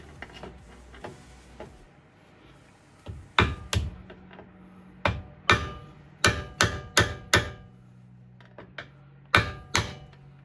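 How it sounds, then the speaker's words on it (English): A hammer strikes a punch to stake a CV axle nut into its notch during a car axle replacement. Sharp metallic blows come in clustered bursts, with quieter taps between them, close and clear. "We're going to use a punch and notch that in to lock the nut in place."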